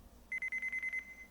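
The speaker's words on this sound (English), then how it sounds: "Beep." A rapid string of about seven clipped electronic beeps in the Phoenix Wright Ace Attorney investigation game, evenly pulsed and faint, ending in a brief sustained tone.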